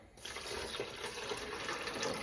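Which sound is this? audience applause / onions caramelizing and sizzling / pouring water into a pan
pouring water into a pan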